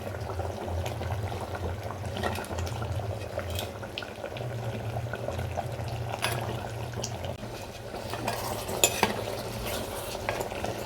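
Curry with garam masala stirred in a clay pot, a spoon scraping and clinking against the earthenware over a low bubbling simmer, with repeated close strokes and a few sharper knocks, and no one speaking.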